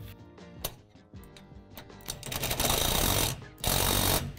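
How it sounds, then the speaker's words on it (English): A bolt is tightened during assembly of a Lifetime Adventure Tower playset. Close mechanical clicking and ratcheting build into a denser, louder stretch of grinding tool noise with short pauses. "Once that's done, tighten the bolt at the bottom."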